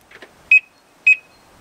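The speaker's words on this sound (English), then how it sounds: "So it's two beeps for unlock." Two quick electronic unlock chirps from an Audi TT Mk2, evenly spaced about half a second apart, ring out clearly after a brief faint rustle.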